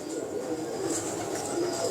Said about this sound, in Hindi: आपके पास जो है ना बड़े शानदार हैं कबूतरों